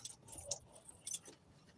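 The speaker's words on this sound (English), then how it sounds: "Where are my keys? Oh, right here." Keys jangle a few times in short metallic bursts, close by and fairly quiet, with no talking.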